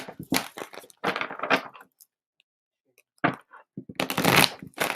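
Tarot cards are shuffled in several quick riffling bursts, close and crisp, separated by a short quiet gap.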